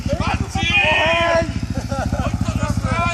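A motorcycle engine chugs at idle in a fast, steady pulsing rhythm close by, while people talk over it.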